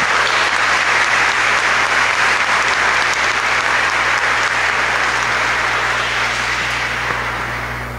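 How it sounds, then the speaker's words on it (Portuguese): A congregation at a solemn religious profession ceremony breaks into sustained applause, a loud, dense wash of many hands clapping for several seconds, steady then slowly tapering, with a low hum underneath. "dê uma salva de palmas pela sua generosidade"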